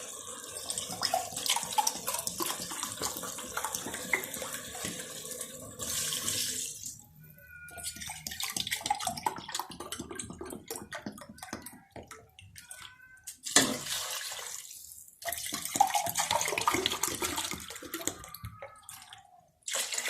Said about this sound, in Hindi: 3 गिलास में पानी डाल रही हूँ